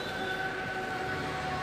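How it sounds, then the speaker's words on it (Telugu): Train at Mahabubabad railway station, a steady rumbling wash of rail noise with faint sustained tonal squeal, continuous and fairly close throughout, no talk. "ట్రైన్ వచ్చింది చూడండి ఎట్లుందో."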